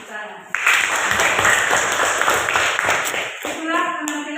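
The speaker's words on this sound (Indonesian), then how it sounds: "berikan tepuk tangan" Classroom applause from students after a group presentation on flooding, steady clapping for about three seconds with a teacher's voice at the start and end.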